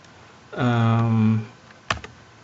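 A short burst of a few keystrokes on a computer keyboard follows a brief hum-like voice, with the taps close and crisp but over quickly.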